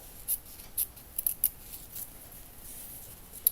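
Scissors cut through a piece of fabric in a series of sharp, close snips, a few quick bursts spaced irregularly over a quiet background.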